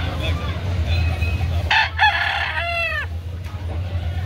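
A rooster crows once, a close and clear cock-a-doodle-doo rising and falling over a low steady background hum, with no other fowl calls standing out.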